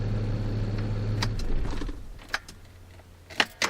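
Car key pulled from the ignition of a Land Rover Discovery 2 with an immobiliser problem, heard as a few short metallic clicks and jangles late in the moment, after a low engine-like hum stops, in a quiet cabin.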